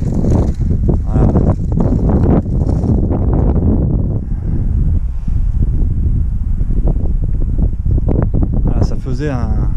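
Outdoors beside a menhir in the Var, gusty wind buffets the microphone with loud, continuous low rumbling and blasts, while a person speaks underneath it.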